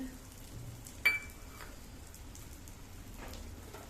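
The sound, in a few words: edible gum frying in hot ghee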